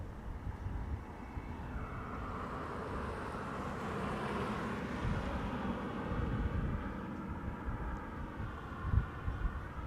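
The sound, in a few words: Air Canada airplane taking off from Polderbaan, Schiphol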